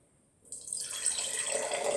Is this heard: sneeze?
no